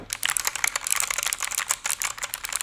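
A SteelSeries Apex 5 keyboard, made to imitate blue switches, is typed on in a quick irregular run of sharp, clicky keystrokes. The sound is close and fairly quiet, with no voices.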